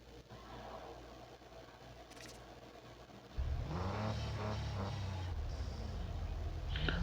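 Cars revving at the start of a street race in the video game Need for Speed No Limits, a BMW against a Porsche; a quiet hum gives way to a loud, sustained engine roar with rising pitch.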